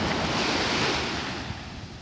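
Surf breaks in a continuous, heavy roar on the Sea of Azov shore between Golubitskaya and Peresyp. Strong wind buffets the microphone, and the sound eases slightly toward the end.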